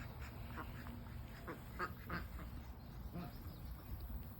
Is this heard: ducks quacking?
yes